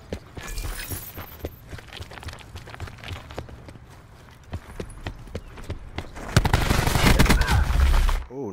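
Rapid bursts of PS4 video game gunfire crackle through a busy firefight, growing denser and louder toward the end with heavy low booms.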